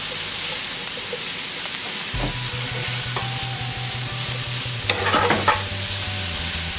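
Shrimp, spinach and mushrooms sauté in oil for shrimp scampi, making a steady, close sizzle. Occasional stirring clatters and a low, constant hum run underneath.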